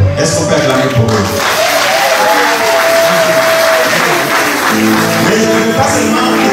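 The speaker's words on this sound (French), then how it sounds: "Est-ce qu'on peut acclamer pour eux?" A church seminary audience claps and cheers for its church leaders, a dense continuous burst of applause from a crowd in a hall, with voices and a speaker audible over the clapping.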